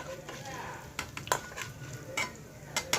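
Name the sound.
frying ingredients in hot oil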